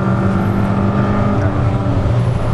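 Onboard a Toyota MR2 race car at the Brands Hatch circuit, its engine droning loud and steady at high revs throughout.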